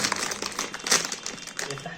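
Crinkling rustle of gift wrapping being torn open, quick bursts of crumpling paper close by under soft voices.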